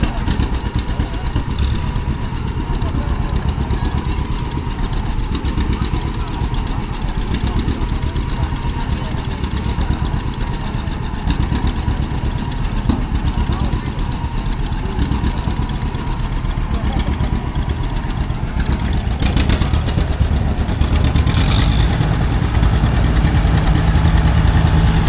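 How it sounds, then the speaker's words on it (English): Antique farm machines at the 2025 Delaware County Fair run a reverse drag race, their engines chugging and idling in a steady loud drone that swells near the end under background crowd noise. "we're going to do a reverse drag race."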